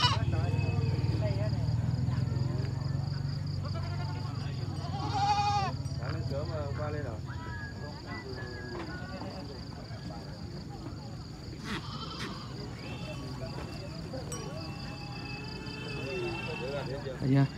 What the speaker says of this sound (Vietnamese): Đây một cái lồng tàn dê con nhá